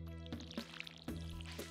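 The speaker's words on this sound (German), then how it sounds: "Die Gießkanne gehört gleich aufgefüllt" Watering can being refilled in the Stardew Valley video game: soft liquid drips and pouring splashes recur in short bursts over a steady tonal music bed.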